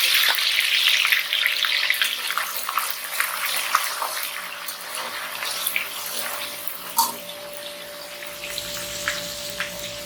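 Garlic ginger paste hits hot oil for dhaba-style chana dal, setting off a loud, steady, close sizzle and hiss that runs the whole time, easing slightly toward the end with a few faint clinks.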